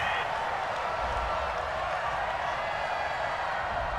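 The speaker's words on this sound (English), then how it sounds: "Well, the crowd doesn't like that." Angry stadium crowd noise from a football video game, a UFL wild card playoff between the Salt Lake Hornets and El Paso Desperados, reacting to a third-down penalty flag: a steady, dense roar of many voices throughout.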